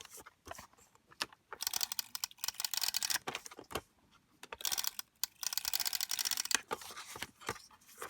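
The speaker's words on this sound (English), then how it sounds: "So we're going to use our tape runner here as well." A tape runner lays adhesive strips onto a paper card for a handmade card: close, dry clicking and rasping bursts in several passes, with quiet pauses between.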